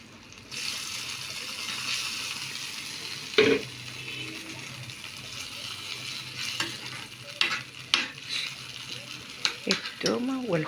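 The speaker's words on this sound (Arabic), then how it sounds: "هعمل التومة بتاعت الخضرة بتاع القلقاس" Garlic frying in oil for taro greens, a steady sizzle with a stirring utensil scraping and clinking against the pan in bursts, close by.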